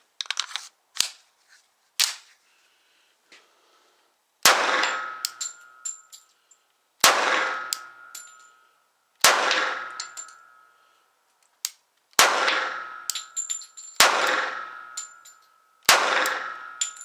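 A CZ 97B pistol chambered in .45 ACP fires at a range, giving a series of sharp, loud, close reports spaced about two seconds apart, each followed by a brief ringing metallic tail.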